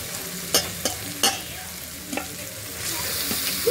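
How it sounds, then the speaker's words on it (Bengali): Mutton going into a pan of fried spice paste, with a steady sizzle and several sharp stirring scrapes and clatters spaced through the few seconds, close and fairly loud, no voices. "এবার দেব মাংস।"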